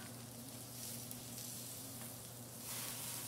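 Meat searing in a hot pan in a home kitchen, a close, steady hiss and crackle with a faint hum underneath and no voices.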